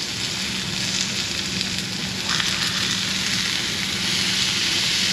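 Steak sizzles and spits on a hot plate at a Tokyo restaurant, a dense, steady frying hiss that stays loud and close throughout with no break.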